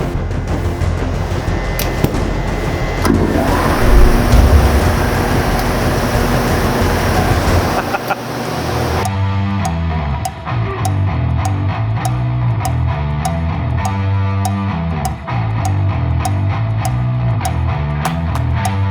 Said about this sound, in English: We're gonna use the wide belt sander to shave down our panels here.